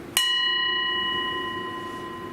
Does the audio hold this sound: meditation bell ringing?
yes